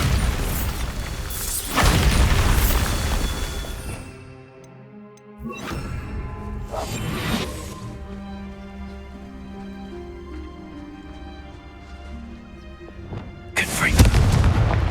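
Bombarda spell blasting in Hogwarts Legacy, loud booming explosions with rumbling debris and game effects, several heavy bursts spaced across the stretch.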